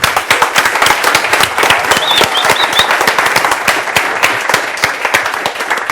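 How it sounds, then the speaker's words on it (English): Conference audience at a DrupalCamp keynote in Finland gives loud, sustained applause, with a dense, steady clatter of many hands clapping close by for the whole stretch. "One more time, we're going to give these guys a round of applause."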